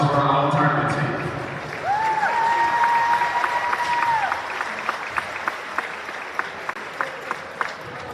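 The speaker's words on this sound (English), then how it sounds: "One more round of applause for our all-tournament team." Crowd applause for a high school basketball all-tournament team at a District 7-3A boys tournament, loud at first, with a whistle-like tone sweeping through the middle, then thinning into scattered claps and cheers in a gym.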